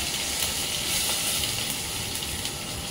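Garlic and curry leaves sizzling in hot tempering oil for sambar, giving a steady, bright crackling hiss that carries on without pause at close range.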